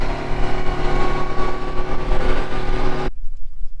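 A running engine rumbles loudly and steadily up close, then cuts off abruptly as it is shut down, leaving near silence.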